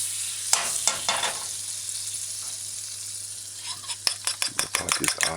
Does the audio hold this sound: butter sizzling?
yes